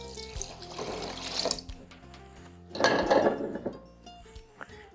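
Liquid pouring into a cooking pot for a pasta and chickpea soup, two distinct splashing pours a couple of seconds apart, close and moderately loud, with faint kitchen clatter between.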